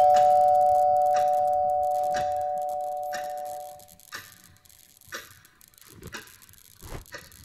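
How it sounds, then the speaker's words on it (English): A doorbell in a horror video game sounds as a clear sustained chime that slowly fades over several seconds, followed by faint scattered clicks and taps. "Did someone knock at the door? Was that a doorbell?"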